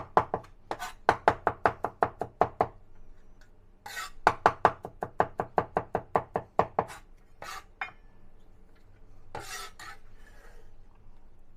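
A knife chops garlic into mince on a board in fast, even bursts of sharp taps, with short pauses between runs and a few scraping sounds, close and fairly quiet, with no talking.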